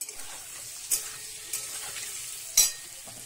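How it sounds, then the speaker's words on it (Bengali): Potato and papaya sautéing in a pan with salt and turmeric for a rui fish curry: a quiet sizzle broken by three sharp spatula clinks against the pan, spaced about a second apart. "নুন হলুদ দিয়ে এবারে আলু পেঁপেটা একটু কষিয়ে নিয়েছি।"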